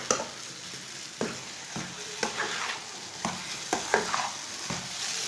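Egg and semolina halwa frying over medium heat while a spoon stirs it, giving a continuous sizzle with regular scraping strokes about every half second, close and clear with no talk.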